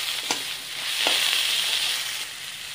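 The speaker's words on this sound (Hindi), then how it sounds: "नमक को देकर इसे थोड़ी देर आपको चलाना है, भूनना है।" Chopped banana flower and salt are stirred and fried in a hot pan, giving a soft, steady sizzle. A few brief scrapes of the spoon cut through, all close by and fairly quiet.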